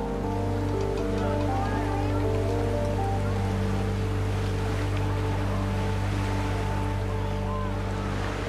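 Motorboats run on the Arcachon basin, a steady close engine drone with water and wind noise washing over it, continuous throughout.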